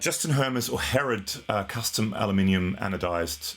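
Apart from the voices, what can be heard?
No everyday noise stands out behind the speech.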